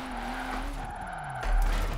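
Tires skid and squeal as a car drifts in a racing video game, played on a 900-degree steering wheel, a continuous engine drone with a wavering screech that swells louder near the end.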